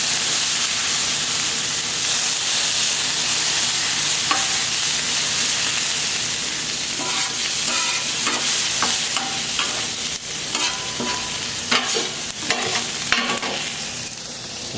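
Vegetables being stirred on a Camp Chef flat top griddle while making sirloin steak tacos, a steady sizzle and hiss with scraping and clattering strokes of a utensil growing busier toward the end, close and continuous.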